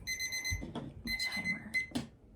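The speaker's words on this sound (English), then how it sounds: "There goes my timer." A kitchen timer alarm rings in repeated bursts of high electronic beeping over a low background rumble, fairly loud and close.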